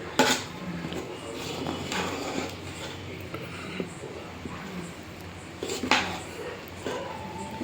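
Jaggery syrup being stirred in a pot for a wheat-flour garelu batter, giving repeated scraping and clinking of a spoon against the metal, a few sharper knocks standing out over steady low kitchen noise.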